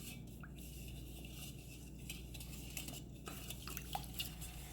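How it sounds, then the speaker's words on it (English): A spoon stirs sugar into warm water in a bowl, making a steady, soft scraping with light clinks against the sides, close up and fairly quiet. "So just keep stirring until all of the sugar is dissolved into the water."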